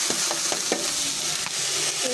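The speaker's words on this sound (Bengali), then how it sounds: "এখন চালটা দিয়ে দিই।" Rice going into a hot pan sizzles with a steady hiss, broken by several quick scraping stirs early on, then settling into a continuous fry.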